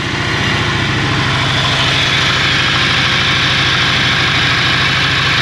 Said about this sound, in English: Always quite reassuring when you've done that job and it starts up and runs.